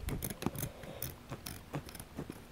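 Scissors snip through old jeans in a quick series of close, crisp cuts with an irregular rhythm and no talking.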